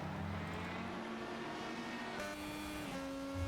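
Champ Car World Series race car at the Grand Prix of Ohio running on a wet track, a steady loud engine roar with tyre spray hiss passing along the back straight, continuous with no pause.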